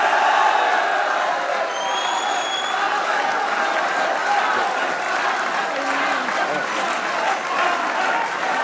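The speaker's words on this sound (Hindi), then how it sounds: "अहमद भाई की तरफ से बाबर के लिए तालियां होनी चाहिए" Studio audience applause and cheering during a Pakistani cricket talk show: dense, steady clapping with scattered whoops and crowd noise, loud and continuous for several seconds.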